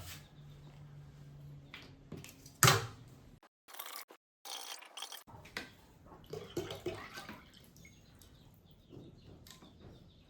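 Milk poured from a container at home while preparing palada payasam, a liquid splashing and running for several seconds, with a gap of silence and light clatter around it.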